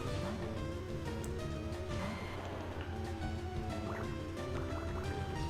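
A Water Gun attack effect from the Pokémon FireRed/LeafGreen game plays as watery, bubbling drips and gurgles with short splashy bursts, steady and moderately loud throughout, without speech.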